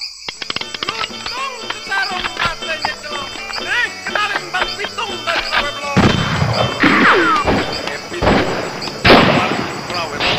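Gunfire effects crackle through a radio-drama shootout against the outlaw si Pitung, with dense noisy bursts building in the second half under and between excited shouting voices.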